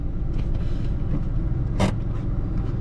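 Steady low traffic rumble and engine drone heard from inside a vehicle stuck in congested road traffic, with a brief louder scrape or passing swish partway through and no talking.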